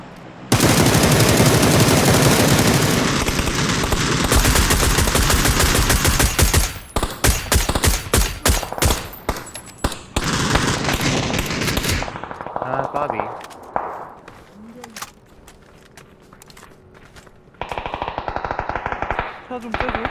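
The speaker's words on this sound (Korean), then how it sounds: "이 총소리 뭐냐?" Rapid automatic gunfire in the video game PUBG Battlegrounds: loud, dense bursts of rifle shots stutter in long volleys, then break into scattered shots and pauses before another burst near the end.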